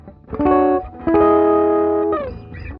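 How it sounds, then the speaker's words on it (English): Electric guitar through a treble boost drive pedal: chords ring out with a bright, driven, slightly distorted tone, two strummed chords sustaining close and loud, then a short fading tail. "now let's bring this high drive treble boost in"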